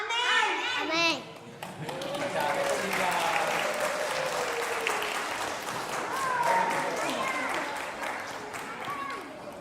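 A church congregation applauds the children during a Sunday service, warm clapping running under children's voices and chatter, with a burst of kids' singing or shouting at the start before the clapping and talk settle in.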